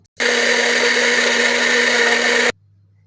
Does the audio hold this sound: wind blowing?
no